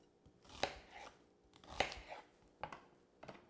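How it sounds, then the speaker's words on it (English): A manual food processor chops onions with four sharp, distinct chopping clacks spaced about a second apart, sounding close and quiet, with no talking. "The easiest way to chop the onions is by using the manual food processor."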